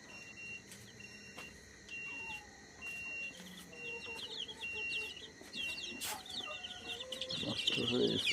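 Layer hens on a poultry farm cluck intermittently at a distance over steady background hum, with repeated electronic beeps and some low voices, the flock growing louder near the end.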